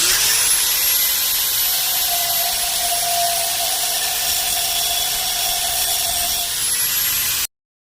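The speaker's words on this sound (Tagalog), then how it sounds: "Putulin natin mga boss. Gamit tayo ng grinder." An angle grinder cutting through a motorcycle part held in a vise: a loud, steady, high-pitched whine lasting several seconds close up, then stopping abruptly.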